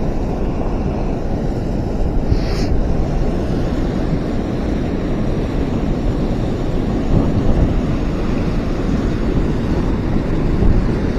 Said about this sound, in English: Pretty tough with the wind